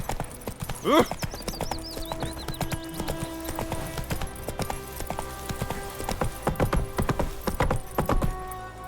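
Horse hooves clip-clop steadily in The Witcher 3: Wild Hunt, a close, rhythmic clatter with a brief whinny near the start and faint background music underneath.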